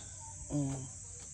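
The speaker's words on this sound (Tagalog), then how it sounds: "meron ng kuliglig at merong mga ibon" Faint steady cricket chirring fills the background, with a brief bird call rising over it near the middle.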